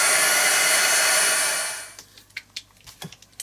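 A hair dryer blowing steadily on an art journal page, a loud even whoosh that cuts off after about two seconds, followed by faint taps and handling noises.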